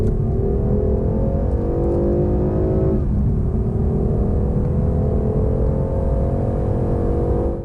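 A 2021 BMW 420i coupe accelerating from 30 to 70 mph, heard from inside as a constant loud engine drone with rising pitch, a brief dip at a gear change, then climbing again over heavy road rumble.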